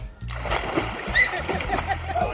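People jump into a backyard swimming pool together, splashing and sloshing close by, with voices talking and calling out over the water.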